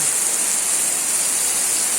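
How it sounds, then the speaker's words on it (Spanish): Heavy rain pours onto a straw-roofed house in the jungle, a dense, steady hiss with no pauses or voices for the full two seconds. "Mira cómo cae la lluvia."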